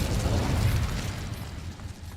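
A fire spell bursts in a Hogwarts Legacy game fight, a low rumbling blast that swells briefly and then fades into a softer crackling tail, fairly faint and heard alone.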